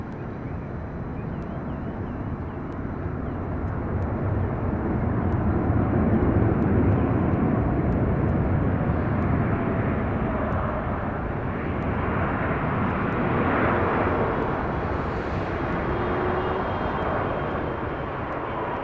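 A DHL cargo airplane at LAX roars steadily, loud and broadband, swelling in the middle as it passes close and then holding a sustained rumble to the end, with no talk over it.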